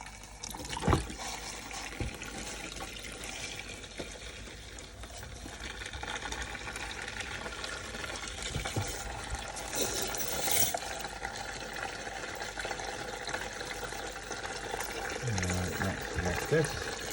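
Water from a turned-on tap rinsing a coin ring, a soft steady trickle and splash running for many seconds, faint and close in a quiet workshop.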